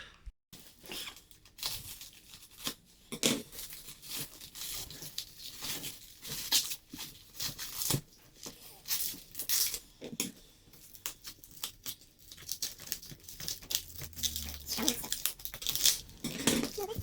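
A parcel's packaging is opened for an Opel Corsa B project, with quiet intermittent tearing, crinkling and rustling handling noises and short sharp rips scattered through a low background.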